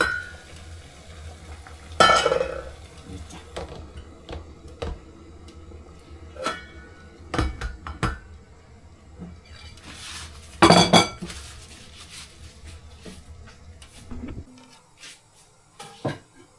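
Pots, lids and utensils handled in a kitchen while bao buns are set to steam over hard-boiling water: scattered clanks, knocks and metallic clinks, two louder clattering moments, and a low background rumble.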